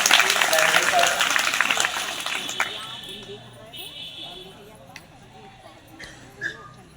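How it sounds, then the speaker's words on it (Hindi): Applause at a school Independence Day celebration, loud at first and then fading away over a few seconds, followed by quieter background with a voice speaking. "जोरदार तालियों के साथ"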